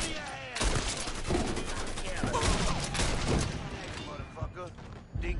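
Rapid bursts of gunfire from the Mafia 3 video game crackle loudly and almost continuously, with someone talking over the shots throughout.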